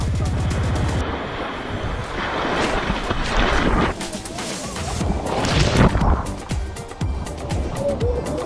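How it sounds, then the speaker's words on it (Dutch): Water splashes and churns as people run through shallow sea surf on Lanzarote, with wind buffeting the microphone and brief shouts over the crashing waves. "Nu gaan we heel hard in het water rennen."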